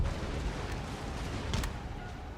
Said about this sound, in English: the cannons back here needs to hold fire because they're firing straight into our own men